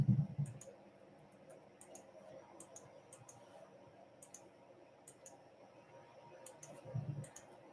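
Typing on a computer keyboard, scattered quick clusters of light key clicks in a quiet room, with soft low thumps at the start and near the end.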